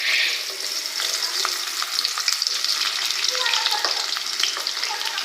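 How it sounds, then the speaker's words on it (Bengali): Chopped onion and garlic fry in hot oil for a Bengali taro stem and prawn dish, giving a loud, steady broadband sizzle with scattered crackles and pops throughout, no voices. "তেল গরম হয়ে গেছে। পেঁয়াজ কুচি, রসুন কুচি দিয়ে দেবো।"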